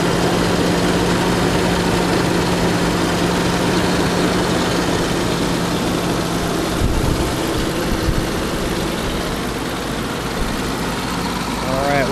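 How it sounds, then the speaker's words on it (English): A 1989 Jeep Cherokee engine idles steadily, its low rumble dipping briefly and then recovering near the end; a faint voice is present in the background. "Idle drops and it comes right back up."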